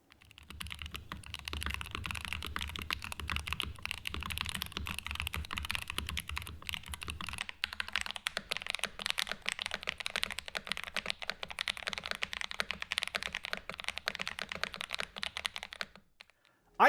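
Steady fast typing on a Wooting 60HE keyboard with mushy-feeling switches, close dense key clacks running continuously for about sixteen seconds with no talking.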